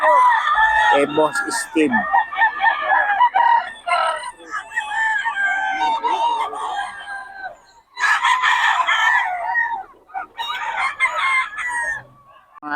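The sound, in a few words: roosters crowing at a market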